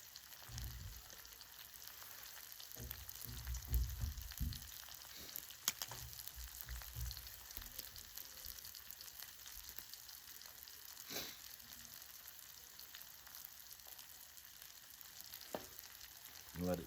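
Homemade sourdough bread sizzles in grease on a duck blind cooktop with a soft, steady crackle and scattered pops. A few louder stirring clatters come near the start.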